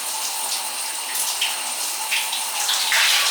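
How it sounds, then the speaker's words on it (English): Water poured from a dipper (tabo) over a body in a Filipino bathroom, a steady, loud splashing gush with brighter splashes toward the end and no talking. "they'll take the dipper, the tabo, and they'll pour it all over their body"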